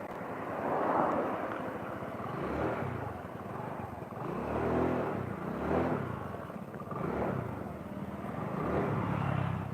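A Honda Beat scooter cruising at high speed, around 90, gives a steady, muffled engine drone mixed with rushing wind, rising and falling gently in loudness throughout.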